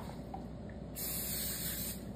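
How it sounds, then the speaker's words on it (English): A steady hiss of spraying runs through the clip, stronger and brighter in the middle second, with no talking. "Now we're gonna spray this down."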